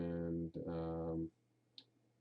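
A single sharp mouse click while working in Word 2013 on a computer, heard alone and close after a sustained droning tone fades out.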